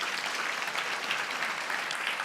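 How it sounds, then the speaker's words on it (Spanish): A church congregation applauds during a sermon, a dense, even wash of many hands clapping together, steady and fairly close throughout. "démosle un aplauso a Dios con todo el corazón"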